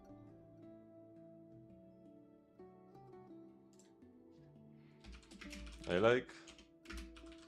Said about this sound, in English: I'm not gonna waste more time typing here.